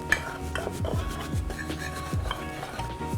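A spoon stirring smoked paprika, cayenne pepper and onion powder together in a bowl, giving a steady scraping, rubbing rhythm with soft clinks against the dish, close and continuous.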